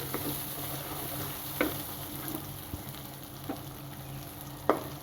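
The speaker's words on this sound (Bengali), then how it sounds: "একটু কষিয়ে নিচ্ছি" Onion, garlic and ground chilli, turmeric, roasted cumin and coriander sautéing in a pan for singara filling, a low steady sizzle with a few soft stirring scrapes and clicks, no voices.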